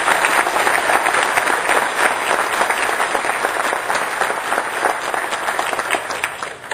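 A crowd at an outdoor dedication ceremony for the All American Canal lining gives sustained, even applause, a dense wash of many hands clapping throughout with no talk.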